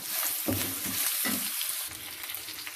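Okra and garlic stir-fried in a pan, a steady hot sizzle broken by a few scraping stirs up close, with no talking.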